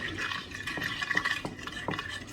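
A utensil stirs a pork marinade in a bowl, with a few distinct clinks and scrapes against the side set over a faint background hum, close by.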